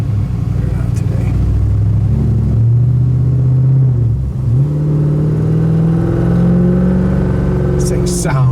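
A 1972 El Camino engine rumbles loudly up close and revs up and down in swells, with people talking faintly over it.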